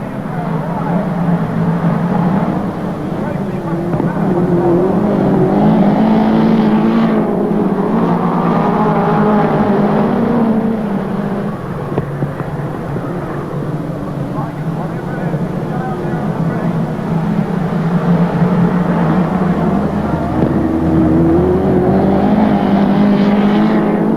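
Midget race cars roar around the Western Springs Speedway oval during an International Midget Car Series race, their engines droning loudly and continuously and rising and falling as they pass, with a voice talking over the racing.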